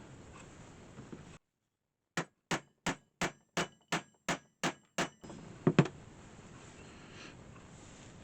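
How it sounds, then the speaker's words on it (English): Nine sharp, evenly spaced hammer taps on a leather stitching tool ring out in a steady rhythm against quiet, followed by a couple of quicker knocks amid faint background noise. "And then you just hammer that."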